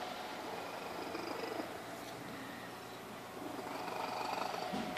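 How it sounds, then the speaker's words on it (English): Cat purring loudly and steadily up close, a continuous rumbling drone with slight swells and no talk over it. "It's a nice good purr. A nice loud purr."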